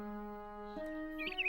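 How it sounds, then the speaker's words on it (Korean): A cartoon sound effect of birds chirping outside a window on a sunny winter morning, a sustained tonal tweet giving way to brighter, higher chirps near the end, clear and alone. "새소리가 정말 예쁘다"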